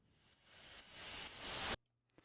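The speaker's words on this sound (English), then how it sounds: "And then this one is also more white noise." A white noise sweep effect for an electronic music drop, a hissing wash that rises gradually in loudness and brightness over about two seconds before cutting off abruptly to near silence.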